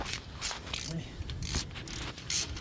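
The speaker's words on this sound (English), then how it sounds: "you can use the ratcheting end if you got one" Ratchet wrench clicking in repeated short bursts while turning a bolt on a vehicle engine during a timing chain and sprocket replacement, fairly faint with a steady background hum.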